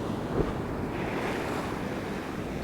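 Sea surf washing steadily at Şarköy in November, with wind rushing across the microphone, a continuous roar with no voices.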